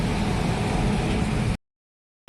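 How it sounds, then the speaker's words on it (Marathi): Strong monsoon wind blows during Mumbai rain, a steady dense rushing roar that cuts off abruptly into silence after about a second and a half. "खूप छान वारा सुटला"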